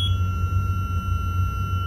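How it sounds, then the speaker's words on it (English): An alarm on a cargo ship's navigation light panel, triggered by a burnt-out stern light bulb, gives a steady electronic tone over loud engine-room hum. "Sets off an alarm on our panel here."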